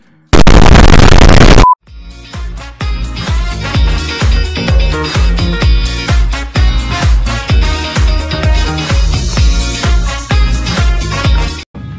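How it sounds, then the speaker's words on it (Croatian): A single loud, broadband explosion bursts in a Worms-style artillery game, sharp and dense for under two seconds, then cuts off into rhythmic game music with punchy beats. "I ovo je eksplozija."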